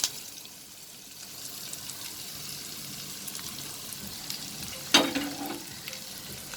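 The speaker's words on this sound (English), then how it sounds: "And I will saute this for another minute on a medium flame" Prawns already fried, stirred with onion and green chilies in a pan over a medium flame, giving a steady, soft sizzle with a sharper scrape of the spatula near the end.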